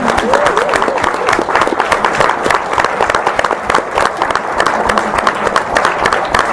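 Members of a Republican women's club in Reno applaud a candidate for lieutenant governor, a loud, continuous round of clapping from a crowded room, with faint voices and cheering mixed underneath.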